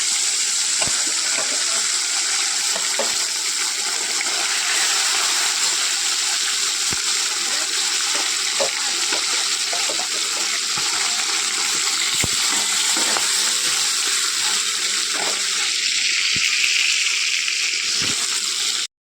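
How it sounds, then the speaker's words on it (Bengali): Fish frying in hot oil gives a steady, close sizzle with scattered sharp pops and crackles throughout, and no voices. "মাছগুলো দিয়ে দিই তেল গরম হয়ে গেছে"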